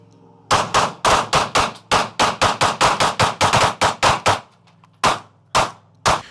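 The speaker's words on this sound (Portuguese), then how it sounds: "E ele deu uma sequência de vários disparos." A rapid string of gunshots fired at an alligator: about fifteen sharp, loud, close reports in quick succession, a short pause, then two more spaced shots.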